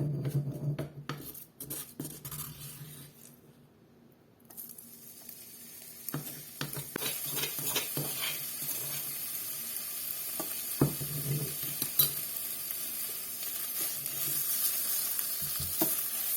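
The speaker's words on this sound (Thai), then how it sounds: "ตอนนี้น้ำมันก็เริ่มร้อนแล้วนะคะ เราก็จะใส่พริกที่เราโขกไว้เมื่อกี้นะคะลงไปค่ะ" Pounded chili paste drops into hot oil in a pan for a Northern Thai young green jackfruit dish. After a quiet moment, a close, loud sizzle and hiss bursts up and holds steady, with occasional stirring clinks.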